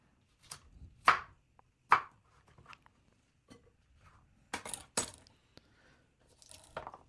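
A knife chops cauliflower florets on a cutting board for aloo gobi, giving a few sharp, separate thuds and clicks spaced unevenly, with small quieter knocks in between.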